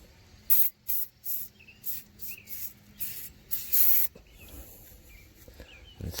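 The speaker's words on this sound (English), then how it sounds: "Now I sprayed a little PB blaster" PB Blaster penetrating oil sprays onto a rusty wheel hub of a 2003 Ford Ranger in a series of short, sharp hissing bursts, close and loud, separated by brief pauses.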